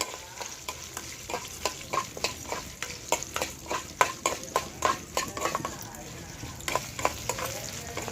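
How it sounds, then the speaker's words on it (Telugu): Green chilies fry in a pan for a cucumber chutney, giving a soft, steady sizzle. A utensil stirs and scrapes against the pan in a regular rhythm of clinks throughout. "ఈ పచ్చిమిరపకాయలు కూడా ఇందులోని బాగా వేగిపోవాలండి."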